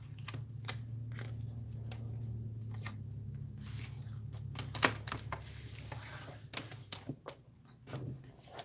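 Scissors snipping a piece off a shoe sticker, a series of quiet, sharp clicks and cuts spaced irregularly over a low steady background hum.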